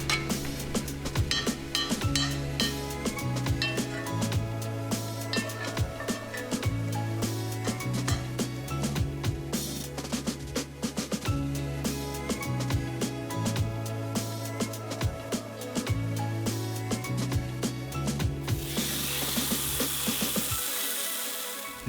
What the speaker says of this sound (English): I want to lightly toast this garlic at a low heat before I get my beef into the pan